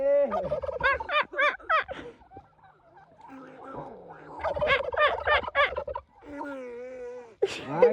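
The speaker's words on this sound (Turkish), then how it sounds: "Bizde bizim kuşlarımız da var, burada hinduşkalarımız." Domestic turkeys gobble in loud, rapid warbling bursts, two main rounds close by with quieter calls between and a final short burst.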